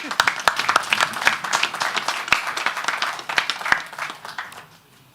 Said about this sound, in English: I thought that was also a good point to clap.